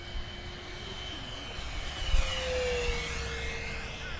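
FMS Diamond Hobby P-39 Airacobra RC plane making a low, fast pass at full throttle, its steady motor whine sweeping past with a falling pitch as it goes by, fairly close.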